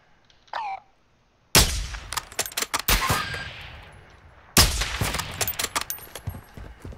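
Video game gunfire, two loud bursts of rapid shots with metallic clangs and ringing tails, preceded by a brief faint chirp, close and sharp.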